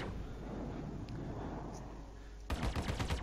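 Weapon fire in the ARMD flight game, a rapid burst of secondary-fire shots cracking out near the end after a stretch of steady engine and wind noise.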